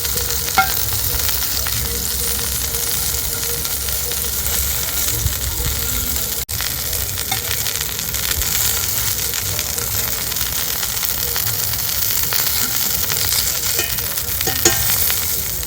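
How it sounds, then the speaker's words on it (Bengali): Batasa pitha, a Bengali sweet fritter, frying in oil in a covered frying pan, giving a steady, even sizzle and crackle throughout, close and continuous, with a brief clatter midway and no talking. "সবগুলো এইভাবে উল্টে পাল্টে দিয়েছি এইভাবেই সবগুলো পিঠে ভেজে নেব"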